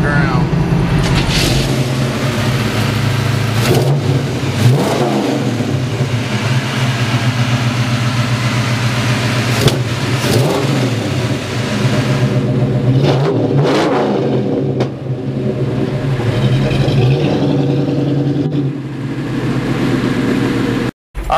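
A 1951 Chevy pickup street rod, lowered to the ground, runs with a steady engine drone and repeated revving swells, loud and close, with someone talking over it.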